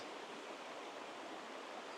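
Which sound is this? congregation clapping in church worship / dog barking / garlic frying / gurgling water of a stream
gurgling water of a stream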